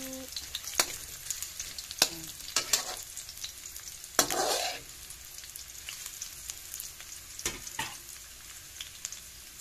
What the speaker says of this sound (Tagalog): Antayin ko maluto ang bawang at saka sibuyas.